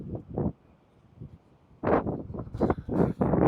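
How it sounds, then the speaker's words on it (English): Storm wind buffets a microphone outdoors on Kefalonia, near Trapezaki, in loud, rumbling gusts that come in uneven bursts, with a quieter lull before heavier, continuous buffeting. "It's a little bit windy."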